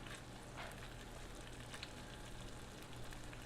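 Smoked sausage frying in a covered pan, a faint continuous sizzle with light crackles and a low steady hum beneath, no talking.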